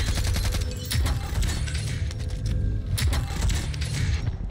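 Rapid bursts of Krieg rifle gunfire in Call of Duty on Rebirth Island, sharp cracks firing in quick succession over a low rumbling game backdrop, loud and close with a few mechanical clicks between shots.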